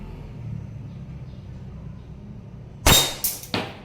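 Sharp cracks from a WE M92 Beretta airsoft pistol, three quick shots close by, one loud report followed by two slightly fainter ones, after a stretch of low background rumble.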